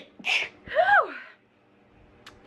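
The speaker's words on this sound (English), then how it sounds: "I'm gonna sneeze." A single person sneezes twice in quick succession, a sharp gasping intake followed by a loud explosive burst, close to the microphone in a quiet indoor room, with a faint click at the end.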